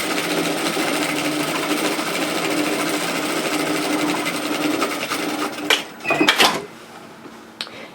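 A sewing machine runs steadily while stitching straight across the top of a large unlined reusable shopping tote, a continuous close hum that breaks into a few short bursts and stops near the end.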